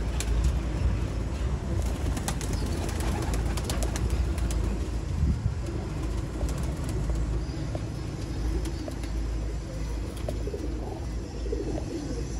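Kamagar pigeons coo softly amid a steady, noisy outdoor rumble, with occasional sharp clicks and distant traffic in the background.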